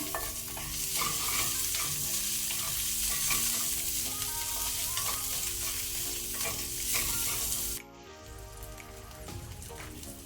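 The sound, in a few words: spring onion whites frying in a pan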